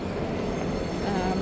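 A passenger train arriving in Sydney on the run back from Melbourne, with a steady, close rumble of rolling wheels and carriage noise and a faint squeal of wheels toward the end, with no talk.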